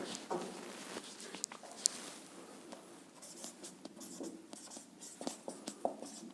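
Handwriting with a pen on paper while working through a class 12 maths lesson on relations and functions, soft scratchy strokes and taps coming in short irregular bursts, fairly faint and close.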